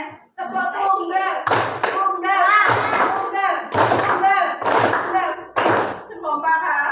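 A classroom of pupils claps hands together in unison, sharp single claps repeating about once a second, with a teacher's voice and children talking between the claps.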